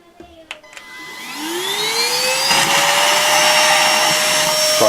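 A Novete VT-DH005 handheld vacuum cleaner spins up to super speed, its motor whine rising steeply and settling into a loud, steady high-pitched roar after a few quiet clicks.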